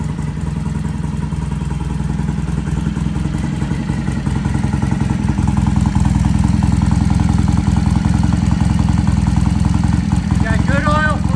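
A vintage British motorcycle engine idles just after its first start following repair, a loud, steady low thumping with mechanical clatter, close by, while a voice talks over it.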